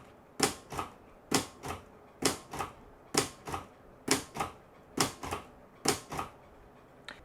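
A Royal manual typewriter, Royal 200 or Mercury, is struck hard, about a dozen loud heavy keystrokes landing in pairs at an even rhythm, close and alone.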